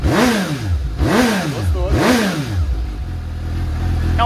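A Suzuki GSX-S750 motorcycle with its original exhaust revs hard three times in a row, each sharp rising roar falling back before settling into a steady, close idle rumble.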